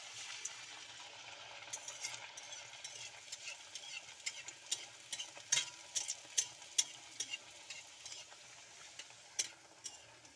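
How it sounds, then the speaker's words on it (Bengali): Sago puris frying one at a time in hot oil, a soft continuous sizzle broken by sharp clinks and taps of a utensil against the pan, fairly quiet and close. "তেল গরম হয়ে গেছে, আমি এবার এক একটা করে ভেজে নেব।"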